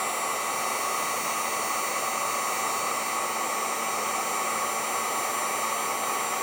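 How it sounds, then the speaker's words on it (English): A heat gun shrinking the ends of wire connectors during a trailer brake controller install on a 2024 vehicle, a steady airy blowing hiss with a low hum underneath, continuous and fairly close, no talking. "I'll come back through with a heat gun and shrink the ends of these up."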